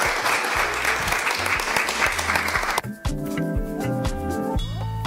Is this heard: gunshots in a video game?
no